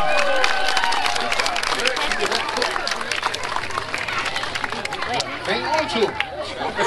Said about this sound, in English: how about a nice big round of applause for a job well done?